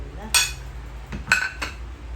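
Metal lid set onto a pot of simmering tinola, two bright clinking knocks about a second apart, close and fairly loud over a low kitchen hum.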